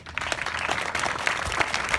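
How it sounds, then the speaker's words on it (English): Crowd at a dedication ceremony applauding, a brief burst of clapping with a few louder individual claps, fairly close. "so they deserve a round of applause as well."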